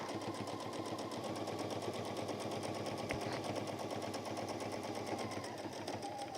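Domestic sewing machine stitching a lined deluxe apron, running in a steady fast rhythmic whirr throughout, close and continuous with a brief click midway.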